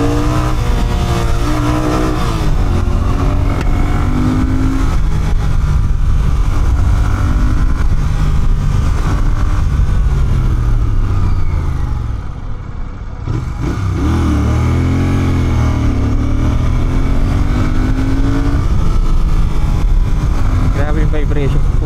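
A Royal Enfield Bear 650 motorcycle, a 47-horsepower twin, running loud and close, its engine note rising and falling through revs with a brief dip near the middle, and a voice talking over it.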